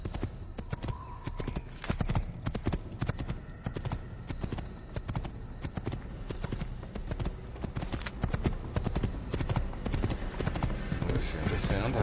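A horse gallops in the Assassin's Creed video game, a continuous rhythmic clip-clop of hooves that stays close and loud throughout.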